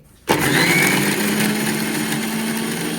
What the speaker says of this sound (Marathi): आता मी मिक्सरचं झाकण लावून घेते आणि याची बारीक पेस्ट करून घेते